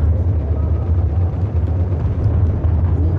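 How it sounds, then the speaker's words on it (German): Helicopter in the video game Battlefield 4, a steady low rotor and engine rumble with constant loud droning, heard without talk. "Oh, ich höre einen Hubi."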